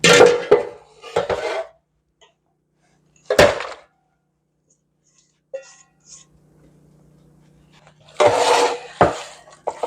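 Meat patty mixture worked by hand in a bowl, making scattered bursts of wet squelching and bowl knocks separated by quiet pauses, with a faint low hum in between.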